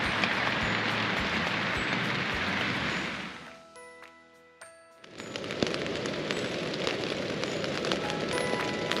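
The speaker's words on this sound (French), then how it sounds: "il pleut toujours" Rain drumming on a tent during a cycling trip on the Way of Saint James, a dense loud patter that fades to near quiet for a couple of seconds with a few sharp ticks before the heavy downpour returns.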